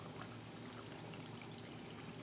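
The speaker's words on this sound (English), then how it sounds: "I'm just going to add my water." Water pours steadily into a container to mix with dish soap, a continuous soft liquid rush at low level with no talking.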